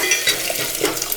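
Tomatoes sizzle and fry in a pan for dal while being stirred, with soft scraping and gentle crackling close by, brief and steady with no talking.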